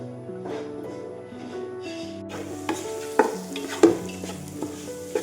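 Spices with black pepper and turmeric dry-roasting in a pan for a thick chicken curry masala: steady stirring scrapes and a soft sizzle, with a few sharper clinks, over a continuous tonal background.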